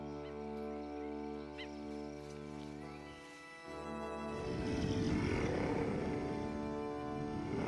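Monsters in an infection-zone film roar and growl, a low rumbling drone swelling into a loud, rough roar in the second half, with no talk over it.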